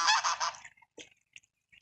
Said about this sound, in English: Hey, stupid geese.